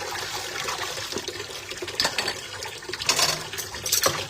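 Running tap water while dishes are washed by hand at a home sink, a steady broadband wash with irregular splashes and clinks of plates throughout, fairly close and continuous with no talking.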